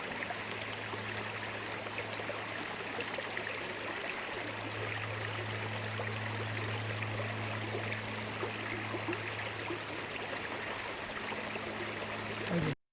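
A creek flows beside a canyon trail near a waterfall, a steady, dense rushing of water that stays even and fairly loud throughout, with a low hum underneath and no other sounds breaking through.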